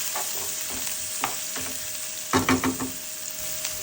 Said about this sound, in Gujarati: અને 2 મિનિટ સુધી આપણે તેલમાં સાતળી લેવાનું છે.